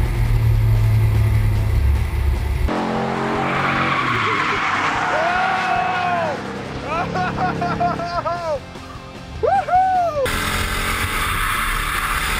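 A car drifting at a drift event, engine roaring with repeated rising and falling tire squeals and skids, loud and close, with people talking throughout.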